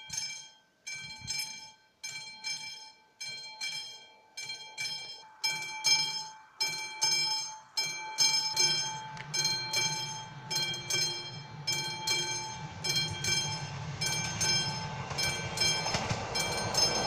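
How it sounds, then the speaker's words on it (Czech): A train passes near Bohutice in the Czech Republic, with a rhythmic series of wheel clacks growing steadily denser and louder into a continuous rolling rumble, along with sustained high tones throughout. "Tak vidíte, ještě jsem stihl i vlak si natočit."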